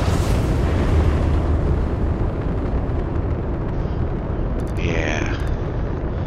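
Spaceship weapons fire in the game Starfield with a dense, roaring blast and rumbling explosions, loud and sustained, followed by a brief electronic chirp near the end.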